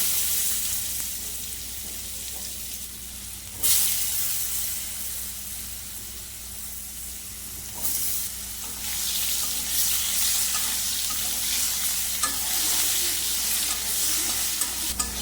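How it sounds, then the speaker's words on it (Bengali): Steady sizzling and hissing of potatoes frying in hot oil, with occasional louder bursts of crackle as pieces are stirred. "আলুগুলো ভেজে নেব।"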